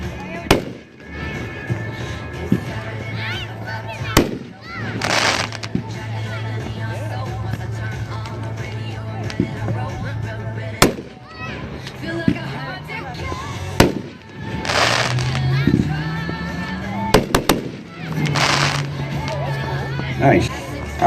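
Shocker consumer fireworks go off outdoors in a series of sharp bursts and crackling pops spread over twenty seconds, with whistling rising tones between blasts and a crowd murmuring underneath.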